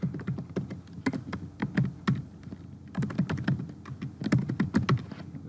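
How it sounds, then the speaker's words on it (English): Keys clack on a computer keyboard in quick bursts of typing, near and crisp, with brief pauses between runs of keystrokes. "I'm just going to start typing over the information that's here"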